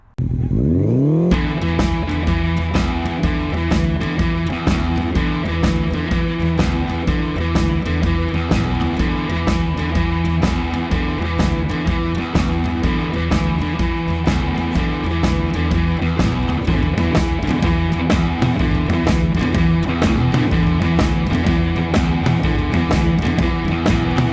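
A custom Honda CB750 motorcycle engine runs loud and close, a steady rumbling idle with a rapid regular firing pulse after a brief start, no talk.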